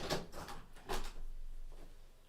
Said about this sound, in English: I'm getting hot, so I'm gonna open a window.